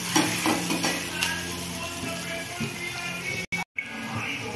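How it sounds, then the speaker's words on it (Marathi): Ginger garlic paste sizzles steadily as it fries in a pan, with scraping stirring strokes throughout; the sound cuts out briefly twice near the end. "अद्रक आणि लसूणची पेस्ट चांगलं हलवून घ्यायचं"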